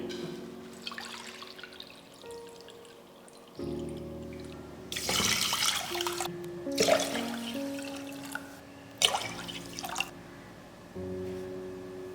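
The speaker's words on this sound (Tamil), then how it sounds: "தேவையான அளவு நம்ம தண்ணி சேர்த்துக்கலாம்" Water splashes and pours in several short bursts into a pressure cooker, with quieter dripping and faint clinks in between.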